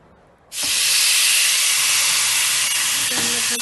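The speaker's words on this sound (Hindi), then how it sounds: "तो अब हम इनको फ्राई करेंगे। फ्राई के लिए हमें ऐसा ग्रिल पैन चाहिए।" Ribeye steak hits an oiled grill pan and bursts into a loud, sudden sizzle that holds as a steady, bright hiss of frying, with a few faint clinks near the end.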